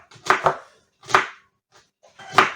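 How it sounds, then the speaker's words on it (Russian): A knife chopping onion on a board while cooking Uzbek plov: three separate close, crisp cutting strokes, the first a quick double, with pauses between and no talk. "Я правильно режу лук?"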